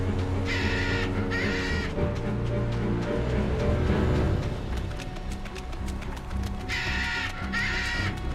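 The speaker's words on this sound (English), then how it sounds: "Noisy little birds they be." Crows caw repeatedly in the video game Tales of Berseria, harsh calls in two bursts at the start and end over a busy background of game music and ambience.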